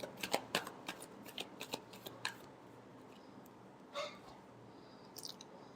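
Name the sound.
shuffling tarot cards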